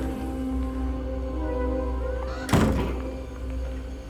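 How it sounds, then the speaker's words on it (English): Door in the video game Hello Neighbor opening or closing with a single loud, sharp thunk that rings off briefly, standing out over a steady droning game ambience. "Oh, why doors had to be so loud?"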